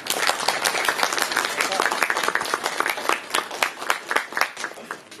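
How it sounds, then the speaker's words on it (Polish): A hall full of people at a popular-science archaeology conference claps steadily and close, with sharp individual claps standing out in a continuous round of applause lasting several seconds. "Bardzo dziękujemy, brawa."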